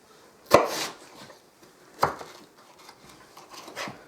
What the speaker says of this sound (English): I'll just cut them up kind of like that. Quarter them.